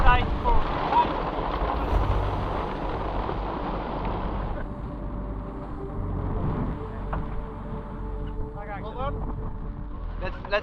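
A fast-moving racing sailboat crossing the Atlantic in January, with steady rushing wind and water noise over hull and rigging. People talk intermittently underneath.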